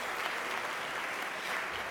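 Audience applause at a student reception for an ACE 2008 event, breaking out after sponsors are thanked. It is a steady, dense wash of many hands clapping together, with no voices heard over it.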